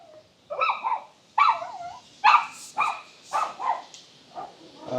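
A dog barks repeatedly and fairly close, giving about eight sharp barks in an uneven rhythm with whiny, yelping tones and no talking.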